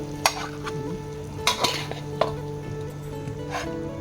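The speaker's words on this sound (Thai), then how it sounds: "นี่เราก็จะตักลงจานนะคะ" Fried food is scooped from an oily pan onto a plate: utensil scrapes and clinks sound over a continuous close sizzle, with a few sharper knocks spaced through the stretch.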